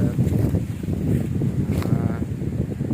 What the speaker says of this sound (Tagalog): sobrang lakas ng hangin ngayon guys